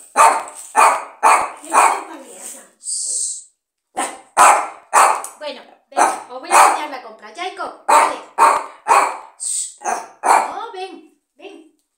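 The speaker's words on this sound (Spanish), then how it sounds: "este perro no me deja hacer nada. Se asusta de esto." A dog barks repeatedly in loud, close bursts, a steady run of sharp barks with brief pauses between them.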